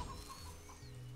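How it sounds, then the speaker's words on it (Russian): A chicken in the video game Death Spank gives soft, faint clucks over low game background sound, with no talk. "Смотрите, я курицу нашел."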